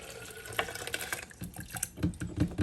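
Horchata liquid pours steadily into a NutriBullet blender with a splashy, gurgling rush, sloshing up close.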